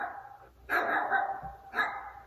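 A dog barks twice in quick succession, each bark a sharp bright burst followed by a brief pause, close and clear with no talk over it.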